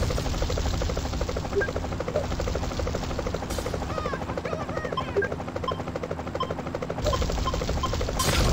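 An attacking helicopter in GTA Chinatown Wars hovers close and loud, its dense, steady rotor chop running throughout with brief dips, while faint game effects flicker over it.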